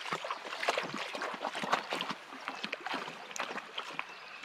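A dog swims and paddles in a shallow campground stream, making steady close splashing and water sloshing with small irregular bursts, without talk.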